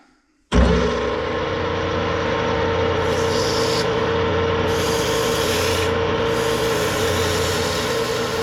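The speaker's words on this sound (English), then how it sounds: "I'm going to give it a little sand just to smooth it up." Steady abrasive rubbing of sandpaper against the top of a wooden flagpole, a continuous close scratchy hiss that starts abruptly and carries on without pause, with brief brighter swishes partway through.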